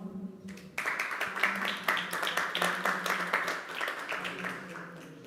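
Audience applause rings out after a startup pitch at a city mobility conference, a dense burst of clapping that starts abruptly, holds steady and slowly tapers, with a low murmur of voices underneath.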